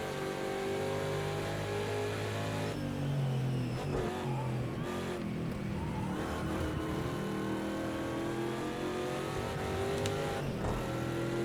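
A Ford Mustang race car engine at speed on the Road America track during an IMSA sportscar weekend, a loud, steady in-car drone with gear changes and shifting pitch throughout.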